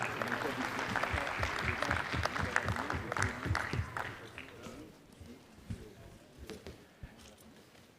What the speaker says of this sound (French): Un grand merci et quelques applaudissements chaleureux pour son propriétaire.